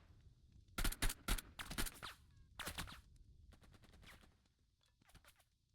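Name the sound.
gunfire in Burden of Command video game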